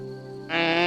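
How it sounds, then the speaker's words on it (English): An antelope gives a brief, tonal, nasal call that swells louder halfway through and holds steady to the end. "Antelope."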